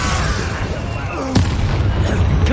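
Incendio fire spell cast in Hogwarts Legacy on PS5, a dense roaring blast that fills the whole clip, with a sharp crack near the middle and another near the end.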